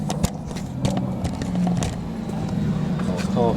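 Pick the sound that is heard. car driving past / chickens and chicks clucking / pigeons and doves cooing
car driving past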